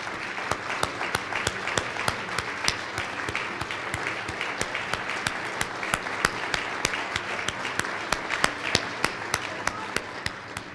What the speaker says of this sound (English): I think that all of you deserve a round of applause